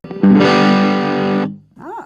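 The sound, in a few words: Firefly FFDB guitar through distortion pedal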